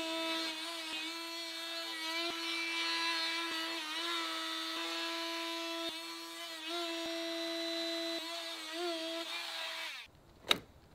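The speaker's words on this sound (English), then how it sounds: "Circular saw and then sawzall through the middle." Blade of a circular saw and reciprocating saw cutting an AAC concrete block, a steady high-pitched whining grind that holds for about ten seconds at moderate volume, then stops abruptly with a short clatter.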